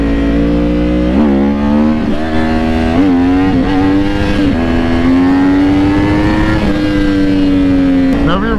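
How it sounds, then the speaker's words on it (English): A Yamaha R1 motorcycle pulls hard in second gear, its loud, close engine note rising in pitch with brief dips and surges before climbing steadily again. "let's do a second gear pull so I can keep the front wheel down"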